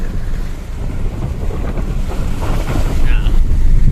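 A vehicle crosses water flowing over a mountain road in Deosai National Park near Skardu, with steady rushing and splashing and heavy wind buffeting throughout, loud and close.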